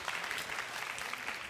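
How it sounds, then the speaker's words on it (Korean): A youth group of high school students at a church gathering applauds, a faint, steady wash of many hands clapping with no clear talking. "우리 다시 한번 박수 주십시다."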